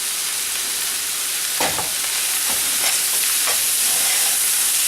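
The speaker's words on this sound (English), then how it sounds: "Now we're going to add the mushrooms. And we're going to let them saute." Mushrooms sauté in a hot pan, giving a loud, continuous sizzle with a few scraping stirs partway through, close up and without talking.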